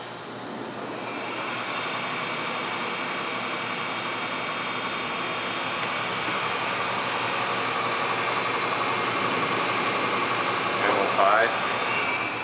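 A Fadal 6030 vertical machining center spindle runs steadily at about 1,000 rpm after a gear change, giving a continuous whine with broadband hum that holds evenly throughout, with a brief rising tone near the end.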